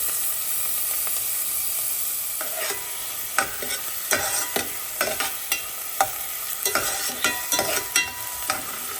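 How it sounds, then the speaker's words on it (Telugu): Onions fry in a pan for a capsicum paneer curry, a constant sizzle broken by repeated sharp scrapes and clacks of a spoon stirring, close and fairly loud, with no talking. "So here I'm adding some onions."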